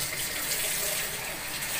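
Water runs steadily from a faucet at an outdoor laundry spot, a constant hissing gush that stays at an even level throughout with no speech.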